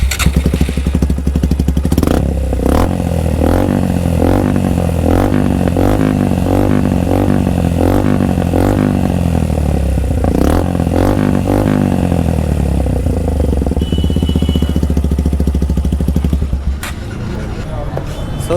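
A Suzuki Gixxer SF 150 motorcycle fitted with a 6-cut carbon-finish exhaust and dB killer idles loud and close, with a deep bassy rumble and rhythmic revving pulses through the middle, then settles and cuts off near the end.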